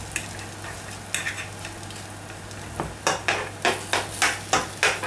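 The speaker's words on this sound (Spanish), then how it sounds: "Vamos a ir haciendo así para que el huevo vaya colando hacia abajo y se vaya haciendo." Egg and potato tortilla cooking in oil in a paella pan, a steady low sizzle under a string of sharp scraping and stirring taps that grow louder and more regular toward the end, with no talk.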